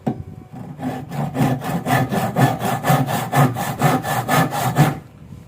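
A freshly sharpened hand saw cuts through tough, dense ironwood in about fifteen quick, even back-and-forth strokes. Each stroke is a loud, rasping pass, close up, with no talking.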